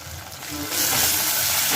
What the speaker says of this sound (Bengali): এবার শাকটাকে একটু ভাজা ভাজা করে নেবো